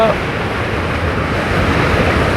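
Loud, continuous rushing water roars at a secluded natural spot near Davanagere, a dense steady wash of broadband noise with no pauses, close and enveloping.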